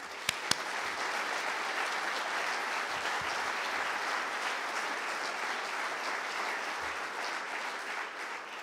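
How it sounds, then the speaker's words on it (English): Conference audience giving a round of applause for an ambassador, a sustained, even crowd clapping that fills the room continuously, with a couple of sharp isolated claps near the start. "I think we should all give you a round of applause"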